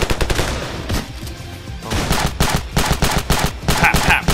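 Gunfire in the video game Ravenfield: loud, close bursts of rapid shots with a brief lull, then more sustained volleys and overlapping fire, with no speech.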